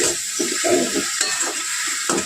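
Spice paste with tomatoes fries in a pan for a Bengali lote fish recipe, a steady hiss of sizzling oil broken by repeated scraping strokes of a spoon stirring the thick masala.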